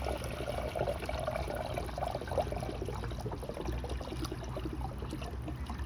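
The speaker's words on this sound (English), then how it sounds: "and then just start filling it with water" Water pours steadily from a container through a no-spill funnel into a car radiator, a continuous close splashing gurgle with no pauses.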